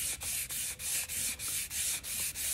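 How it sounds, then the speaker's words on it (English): A car crankshaft being polished by hand, a shoelace and 400-grit wet-and-dry paper pulled back and forth over the journal in a steady rhythm. Close, hissing rubbing strokes come about three per second, with short dips between them, and nobody speaks. "Just doing a little crank polishing the shoelace."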